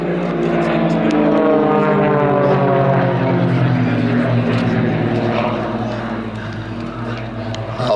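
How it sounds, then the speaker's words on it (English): An aerobatic propeller airplane at an airshow pulls up to the vertical and drops into a flat spin, its engine a loud, continuous droning buzz that wavers in pitch and eases off slightly toward the end. "Mark pulling up to the vertical, into a flat spin on the way down."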